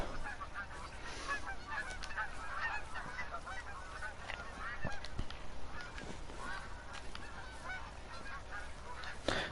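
Geese honk repeatedly over steady ambient background in the Revontuli Coast hunting map of a hunting video game, a dense chorus of calls continuing throughout at moderate distance.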